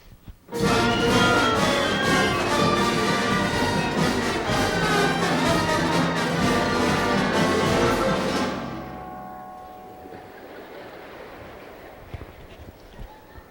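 A dense, chaotic orchestral passage with many instruments playing clashing lines at once, loud and busy, then suddenly dropping to a faint, quiet tail.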